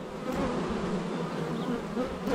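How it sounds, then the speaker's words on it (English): Honey bees buzz steadily close around a beekeeper working an open hive, a dense continuous drone with no talking. "I got a few bees now that are giving me a little buzz"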